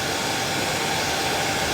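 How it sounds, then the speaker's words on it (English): A hairdryer blowing on a fly-tying tube fly, heard as a loud, close and constant whooshing roar of airflow that holds steady throughout. "use the hairdryer just to basically give me a shape, or show me the shape of the fly"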